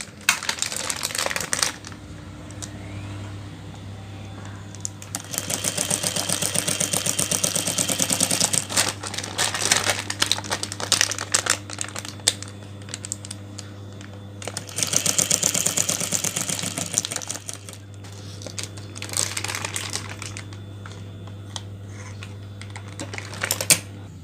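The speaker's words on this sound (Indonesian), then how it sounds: "kita masuk dalam mesinnya, kita jahit mesin ya" A sewing machine stitches plastic in long bursts of rapid mechanical stitching with a steady hum, pausing briefly between runs, close up.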